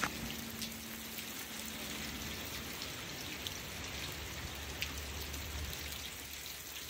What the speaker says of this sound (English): That's a lot of hail right there.